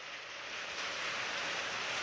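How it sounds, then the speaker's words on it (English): Steady rain falls outdoors as a dense, even hiss with no gaps, moderately close and unbroken by voices. "Well, it's raining"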